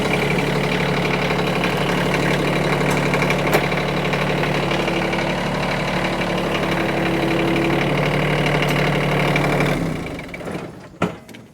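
A Kioti CS2520S compact tractor's diesel engine runs steadily and loudly close by for about ten seconds as it pulls away from the detached backhoe, then drops off, leaving a few clanks.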